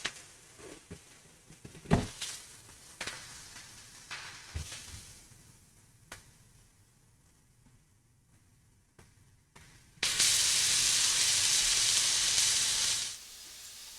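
Onions cook in a pan while being stirred, with scattered scrapes and knocks, then a loud, steady sizzling hiss rises for several seconds before cutting out, with no talk.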